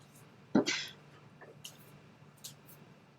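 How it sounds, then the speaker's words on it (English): A single sharp cough with throat clearing, brief and close, followed by a few faint mouth and throat noises in a quiet room. "Wait a second, I've got a cough here."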